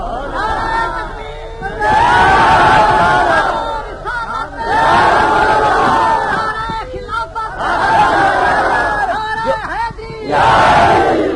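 A large crowd at a religious gathering shouts a slogan in powerful rhythmic bursts, several loud chants separated by brief pauses, with a leading voice calling out between them.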